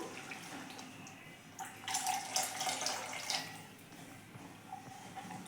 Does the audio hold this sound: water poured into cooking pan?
yes